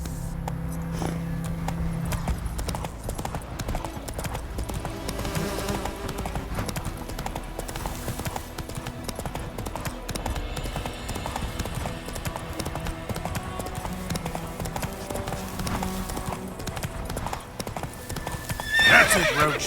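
Roach, a horse in the video game The Witcher III: Wild Hunt, gallops steadily with continuous rhythmic hoofbeats, close and prominent throughout, and a short neigh near the end.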